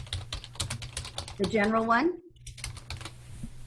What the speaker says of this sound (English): And just curious, who's typing?